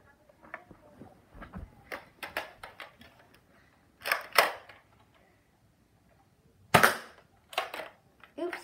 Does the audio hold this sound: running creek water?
no